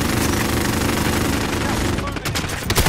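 Sustained automatic gunfire in Call of Duty Warzone, a dense rapid rattle that fills the first two seconds, then breaks into a few scattered sharp shots, with voices talking underneath.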